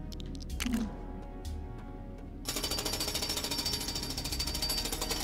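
A drill in the video game Lego Batman 3 starts up abruptly partway through and keeps up a loud, rapid, pulsing grind to the end, following quieter game sounds and clicks.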